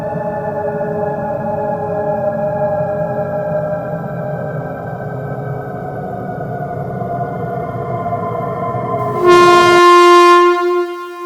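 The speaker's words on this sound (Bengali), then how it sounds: "এবং ট্রেনটি আবার চলতে আরম্ভ করলো।" A train rumbles steadily, then a loud horn blast sounds near the end as the rolling noise drops away; no voices.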